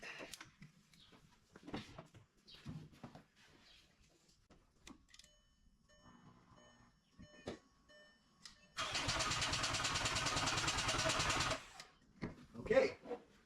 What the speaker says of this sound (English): We have it cranking.